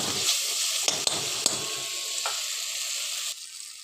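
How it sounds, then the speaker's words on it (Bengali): Ginger, tomato and green chilli sizzling in hot oil in a pan, a close, steady hiss with a few sharp clicks and scrapes of stirring, quieter toward the end, and no talk. "আদা দিয়ে ভালোভাবে ভেজে নেবো"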